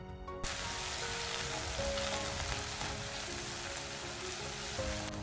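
Shallots and garlic sautéing in a pan for Tamil ladies finger (okra) pachadi: a steady, even sizzle that fills the whole stretch, close and moderately quiet, with no voices.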